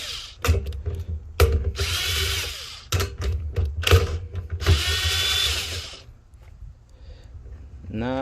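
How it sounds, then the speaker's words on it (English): A power drill undoes three 10mm bolts on the fuel pump of a Lexus LS400 in a series of sharp, close whirring bursts with pauses between them, and some talk can be heard in the gaps. "Next, you got 3 10mm bolts, which we're gonna undo."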